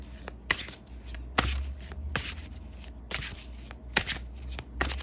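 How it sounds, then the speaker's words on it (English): Tarot cards being shuffled up close, a series of soft riffles and taps in irregular bursts over a quiet background. "So I just want to give a nice, good, clear shuffle."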